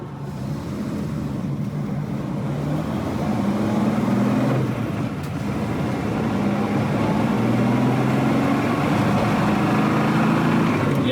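Volvo 164 engine running steadily while driving, a continuous low drone with rising and falling harmonic tones as revs change, slightly flat at the top end due to ignition timing, heard from inside the car with no talk.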